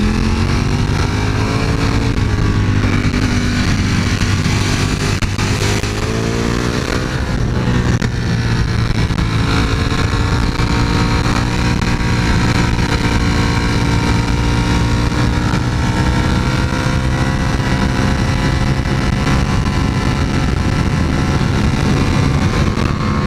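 A Ducati Panigale V4 S engine roars continuously on a test ride, loud and close, climbing in pitch as it revs and holding a sustained high-speed drone throughout.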